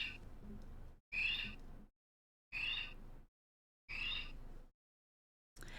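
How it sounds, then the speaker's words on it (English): A kiwi plushie toy plays a recorded brown kiwi bird call: four shrill, rising whistled cries, evenly spaced with silent gaps between them, clear and close. "that's the sound that a brown kiwi makes"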